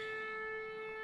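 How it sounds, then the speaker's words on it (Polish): A siren wails with a steady, sustained tone that holds at an even level throughout a brief moment, with no voices. "syrena się włączyła"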